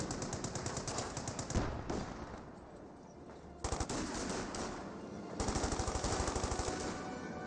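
Video game gunfire from Company of Heroes 2 breaks out in rapid automatic bursts separated by short lulls, with machine-gun rattles and single shots in a loud battle mix.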